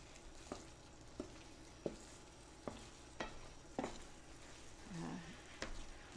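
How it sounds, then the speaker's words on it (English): Apple cobbler filling with thickener simmering in a pot on the stove, a soft steady bubbling bed broken by occasional sharp spoon taps and stirs, quiet and close. "let it simmer just for a few minutes to thicken up a little bit more"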